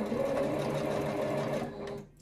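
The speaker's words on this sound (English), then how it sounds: "When you're sewing, begin with a sew forward and then do a back stitch." A sewing machine stitches a tapestry-fabric hoodie, its needle hammering in a fast, even close rhythm before slowing and stopping near the end, with no talking.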